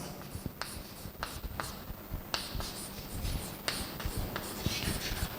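Chalk or marker writing on a board during a maths lesson, a steady run of scratchy strokes and taps that come in short bursts, close and moderately loud, with no talking.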